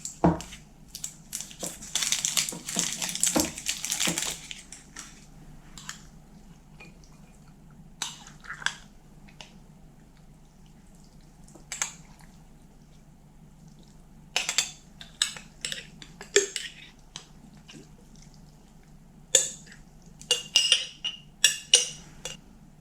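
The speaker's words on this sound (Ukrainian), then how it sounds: "А зараз відкриємо ось цю маленьку баночку" A small glass jar of Korean-style salad with mushrooms, eggplant and carrot is opened: a loud burst of clinking and crunching glass-lid noise at first, then scattered sharp clinks and taps, some close and crisp, with quiet gaps between.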